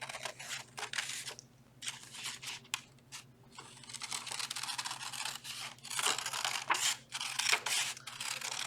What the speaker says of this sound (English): now I can sneak my scissors in there, and I'm going to cut